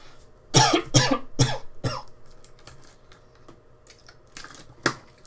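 A person coughs in a quick burst of several harsh coughs close to the microphone, followed by a softer throat-clearing sound and a final single cough, no talking.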